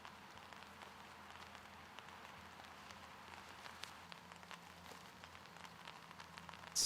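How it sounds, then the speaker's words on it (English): Light rain falls outdoors at a disc golf tournament, a faint, steady patter of scattered drops with soft irregular ticks spread evenly across the quiet background. "you hear some light rain"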